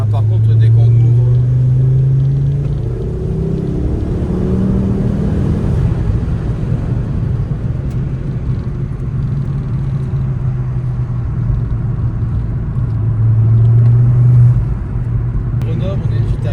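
A Ford Focus ST Rallye Edition with a stage 3 tune revs hard, its deep engine drone swelling, easing off and rising again in strong sweeps heard from inside the car, with someone talking over it.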